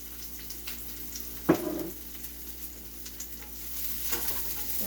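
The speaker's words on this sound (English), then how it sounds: "And so just frying up the onions," Chopped onions fry in olive oil in a pan, a soft steady sizzle with a brief louder clatter of stirring partway through, the hiss swelling slightly toward the end.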